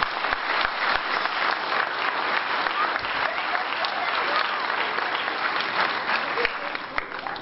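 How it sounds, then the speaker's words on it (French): A ceremony audience at a New Year's greetings event in Vieux-Condé applauds volunteers, sustained hall-filling clapping with scattered sharper claps, fairly loud and continuous before tapering slightly at the end. "Et je vous demanderai de les applaudir bien fort,"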